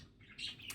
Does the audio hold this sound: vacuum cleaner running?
no